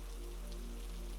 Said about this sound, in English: the soft, continuous hush of raindrops meeting water.